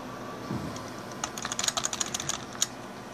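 Clattering keystrokes on an ASUS computer keyboard, a quick irregular burst of clicks over a steady low hum, close and moderately loud.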